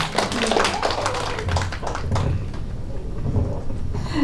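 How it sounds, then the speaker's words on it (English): Seminar audience giving a round of applause, dense steady clapping throughout, fairly close and loud, with a voice briefly heard. "Let's give her a round of applause"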